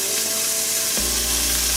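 Andouille sausage sizzling and frying in a hot pan for a Southern red beans and rice dish, a steady loud dense hiss throughout with a low rumble joining partway.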